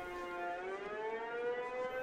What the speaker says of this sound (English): Look at that siren.